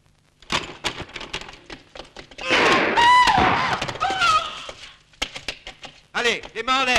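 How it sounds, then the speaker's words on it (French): A wooden door is forced with loud cracking and thudding blows and splintering impacts, amid shouting voices and commotion. "Enfoncez-moi cette porte."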